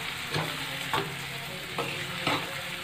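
Taro slices frying in hot oil, with a soft steady sizzle broken by four spaced stirring scrapes of a spoon through the pan, no voices.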